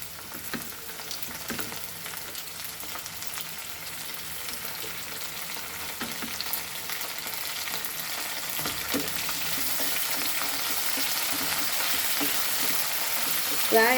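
Carrot, onion and curry leaves fry together in a pan, a soft, continuous sizzle that slowly grows louder, with faint stirring scrapes and a light clink at the close.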